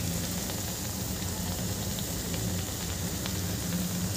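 Bread pakodas deep-frying in a pan of hot oil, giving a steady, even sizzle and crackle that holds unchanged throughout, close and moderately loud, with no voices.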